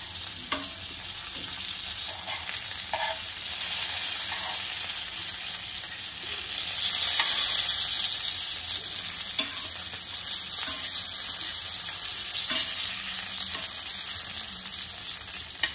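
Stuffed green chillies fry in a pan with a steady, close sizzle that holds for the whole stretch, with faint stirring clicks now and then and no talk.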